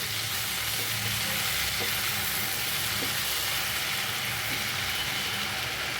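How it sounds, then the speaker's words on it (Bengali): Half a spoon of sugar sizzles and fries in hot oil in a pan while making chicken curry, a steady close crackling hiss that fills the clip with no voices. "এই তেলের মধ্যে আমি দিয়ে দেবো হাফ চামচ চিনি।"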